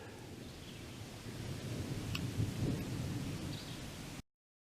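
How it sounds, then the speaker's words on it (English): Thunder from a storm rumbles low in the distance over a long, swelling roll near wooded, overgrown headstones on Piney Ridge in Shenandoah National Park, then stops abruptly. "that crashing sound you hear is thunder"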